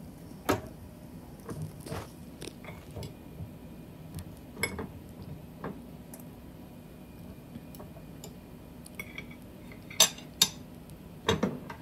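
Utensils mix mashed saba banana for nilupak with soft, scattered clinks and taps against a bowl, quiet and irregular, with a few sharper knocks near the end and no one talking.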